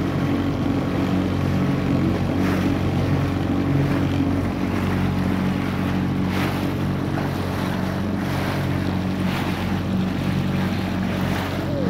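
A boat passes on open water while at anchor near Grou, a steady low motor drone with wind and lapping water, continuous and fairly loud with no talk.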